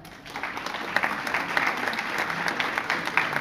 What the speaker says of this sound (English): You're doing amazing on the applause, lads.